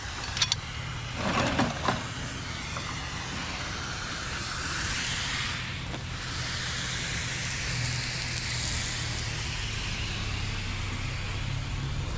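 Steady rain patters and hisses on a surface, a constant wash of sound, with a few brief knocks and clicks near the start.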